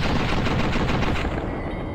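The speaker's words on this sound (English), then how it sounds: "If I only shoot the head." Rapid gunfire in a first-person shooter video game, a dense rattling volley of close, loud shots that continues without a break.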